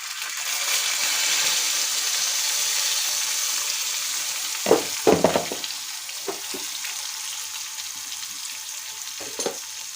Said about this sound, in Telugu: ఇలా చిన్నగా తాలింపు పెట్టుకోండి